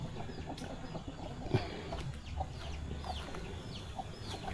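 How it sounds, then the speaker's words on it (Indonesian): Chickens roam a remote Javanese mountain village near old teak-wood houses, with several soft clucks and short calls scattered across the clip over a steady outdoor background hum. "Tuh, banyak ayam berkeliaran di sini ya."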